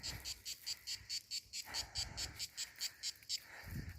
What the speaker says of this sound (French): Alors il y a des cigales, dès qu'on s'approche d'elles, elles hésitent à s'arrêter.